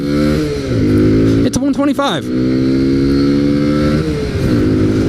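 A Kawasaki Z125 Pro motorcycle engine hums loud and close while riding, revving up sharply through a quick gear change in the middle, with someone talking over it.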